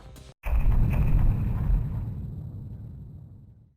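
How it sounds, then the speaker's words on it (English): A loud, sudden rumbling crash of heavy construction machinery or debris outside starts after a brief gap, then a low roar slowly fades over several seconds. "Sorry for the noise, there is construction going on outside."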